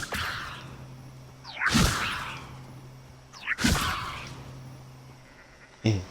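Levioso spell cast in the video game Hogwarts Legacy, three sharp whooshing magical zaps with rising swishes, each cracking out loudly and then fading, separated by a low ambient hum.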